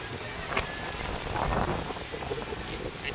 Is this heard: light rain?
yes